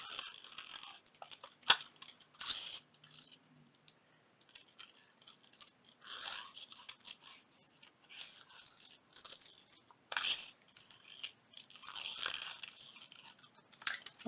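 Scissors snipping through paper in short bursts of crisp cuts, close by, with quiet pauses between cuts and no talking.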